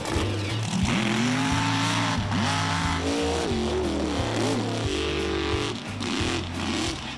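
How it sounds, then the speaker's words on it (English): Engines rev and roar at a mud bog where the Dominator high-clearance truck drives, loud and continuous with rising and falling revs and layered mechanical noise. "the Dominator is an extremely high clearance vehicle"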